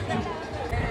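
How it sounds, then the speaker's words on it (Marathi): Dense crowd at a Ram Navami gathering in Shrirampur, a close, steady babble of many overlapping voices and footsteps filling the space, with no single speaker standing out. "गर्दीच गर्दी, एवढी गर्दी आहे ना तर चालणं सुद्धा मुश्किल झालं"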